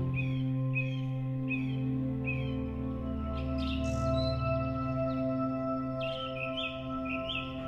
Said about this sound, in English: You may know them as the first sign of spring, that is the Indian robin.